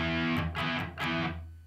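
Distorted electric guitar plays the opening of a riff, a short burst of three chugging, crunchy attacks that ring out and fade, close and alone.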